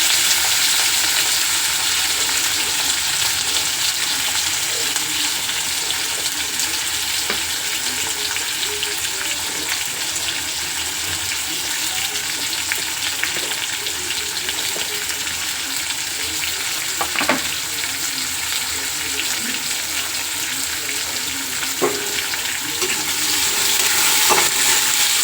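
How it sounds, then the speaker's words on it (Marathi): Finely chopped, washed potatoes fry in oil over a low gas flame, with a steady, close sizzle that holds evenly throughout and a few faint clinks along the way. "तेलामध्ये कमी गॅसवर बटाट्यांना चांगलं शिजू द्यायचं"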